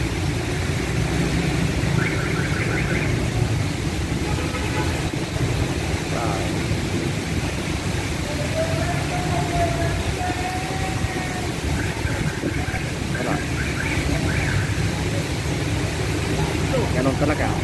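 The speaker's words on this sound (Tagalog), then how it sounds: "Sinabayan ng malakas na ulan." Heavy rain and strong wind batter a motorist on the road, a dense steady roar of downpour and gusts filling the whole stretch, with traffic rumbling low underneath and a voice speaking over it now and then.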